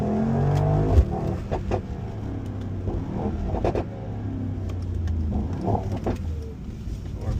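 A Mercedes-AMG GT55 Coupe pulls away, its engine rising in a rumbling, building note heard from inside the cabin, holding a steady drone with slight surges over several seconds.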